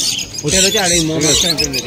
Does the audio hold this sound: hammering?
no